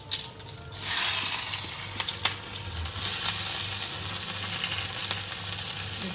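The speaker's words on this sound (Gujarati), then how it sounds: "જો બટેટા મેળ્યા વઘારવા" Steady, close sizzling of potatoes frying in hot oil, a continuous crackle with a faint low hum underneath and no voices.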